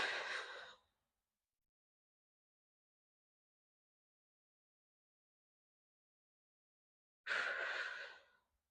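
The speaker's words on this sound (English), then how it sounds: "I'm gonna breathe in, let this part of my rib cage kind of come up as I blow out" A person doing breathwork takes a deliberate breath and blows out, with one breathy burst at the start and another after a long silence, close and fairly soft.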